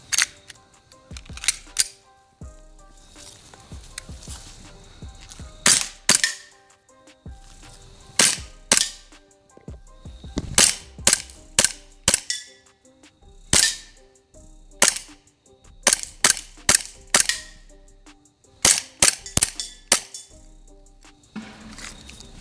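An airsoft Glock 19X pistol with a metal slide fires a string of sharp, snappy cracks, close and loud, coming singly and in quick pairs and bursts across the stretch with short pauses between groups.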